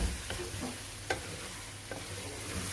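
Three or four slit green chillies fry in hot oil in a pan, giving a steady close hiss of sizzling broken by a few faint stirring scrapes.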